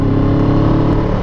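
A CF Moto 700CL-X twin-cylinder motorcycle engine revs loud and close, a steady dense roar filling the whole short burst with no voices.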